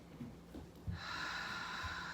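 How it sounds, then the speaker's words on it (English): Slow, deep yoga-style breathing during a restorative pose: a few soft nasal intakes, then one long, steady airy exhale close to the mic. "that nice, smooth, calming inhale that nourishes us, and that beautiful cleansing exhale"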